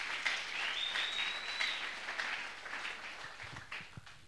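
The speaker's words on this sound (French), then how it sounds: "Applaudissons pour la gloire du Seigneur." A church congregation applauds steadily throughout, a dense wash of clapping with a faint whistle-like tone briefly rising above it.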